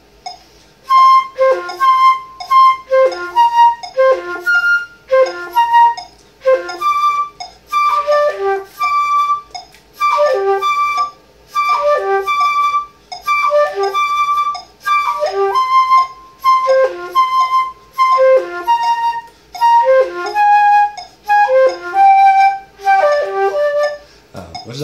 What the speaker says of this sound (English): you can do the chord note, the first note of the run, last note of the run, and then the next chord note.